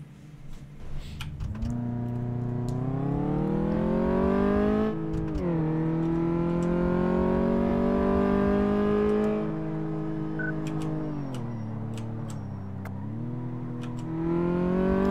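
Engine of a hot pink racer car in Car Mechanic Simulator 2014 on a test drive, a steady droning whine that climbs in pitch as it accelerates, drops sharply with gear changes, then rises again, loud and alone without talk.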